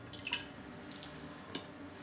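Water drips from a removed HiFlo RO30 reverse osmosis filter cartridge, a few faint, sparse droplets falling over a quiet background.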